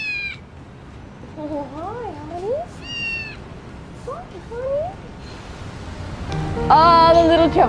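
Several small kittens meowing in rising and falling cries, spaced across the stretch with brief pauses, fairly close, ending in a louder burst of high, sharp mewing.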